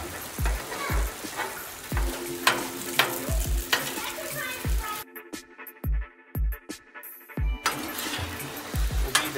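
Spaghetti noodles being chopped with a sharp metal spatula on a Blackstone griddle, a steady run of close scraping taps and clacks over a constant sizzle, with a short quieter stretch in the middle.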